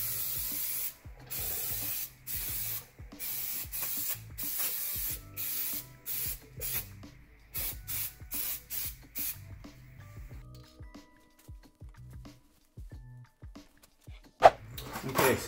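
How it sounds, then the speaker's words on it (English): Repeated bursts of brake cleaner aerosol spray hiss on Subaru Crosstrek brakes, each a second or so long, in a steady rhythm, close up, then a few shorter sprays with pauses. "I'm just gonna give it a quick spray with brake cleaner."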